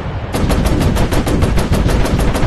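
Warplane machine guns fire in rapid, unbroken automatic bursts during a night mission in the VR game Warplanes: Battles over Pacific, loud and close throughout.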